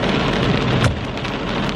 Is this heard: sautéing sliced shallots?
no